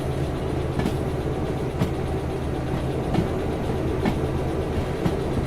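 A locomotive with two engines running hauls a train on the rails in the Derail Valley video game, a steady low rumble broken by regular clickety-clack wheel beats about once a second.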